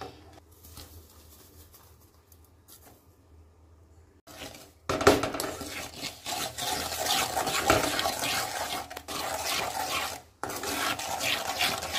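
Ground moong dal paste going into a pan for halwa: quiet rustling, then a loud sizzling hiss with scraping and stirring that continues steadily, briefly dipping before resuming.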